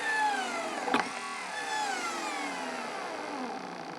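A 24–48 V DC brushed motor running under load, a steady whining hum with gliding tones that slowly shift in pitch, one brief knock early on, close and even in level, with no talking.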